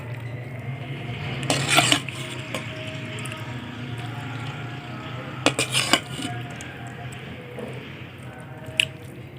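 Egg and onion dish with green chillies served out onto a plate, soft squishy scraping and a couple of clinks of utensil against dish in two short bursts over a steady background hum.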